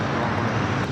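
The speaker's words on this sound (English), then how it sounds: "Dynasty, China Airlines 777 up next." China Airlines Boeing 777 departing LAX, a steady broadband jet engine roar holding level and close for the whole second with no voices.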